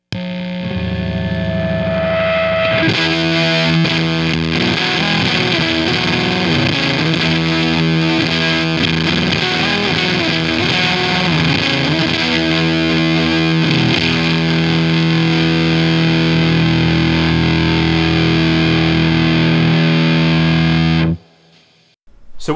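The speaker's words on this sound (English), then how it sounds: "the buffer that was on that we showed before actually changes the sound of your fuzz box a little bit" Electric guitar fuzz box played through a Boss pedal buffer, a thick, saturated distorted tone with a steady hum underneath, sustained loudly for about twenty seconds before cutting off abruptly.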